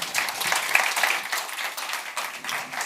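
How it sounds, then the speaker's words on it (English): Conference audience at a festival stage session giving the panel a round of applause, a steady, moderately loud patter of many hands clapping throughout the short stretch. "Please thank my panel with a round of applause."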